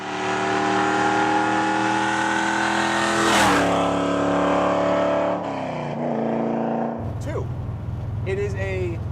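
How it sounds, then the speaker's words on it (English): A naturally aspirated Camaro V8 holds a loud, steady engine tone with a rising pitch sweep, then the note drops and settles into a lower rumble near the end. "I love the sound of a naturally aspirated car."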